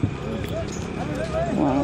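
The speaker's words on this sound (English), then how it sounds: "Those hoofs are amazing." Horse hooves clip-clop at the Pushkar cattle fair, briefly and close, with people talking over them.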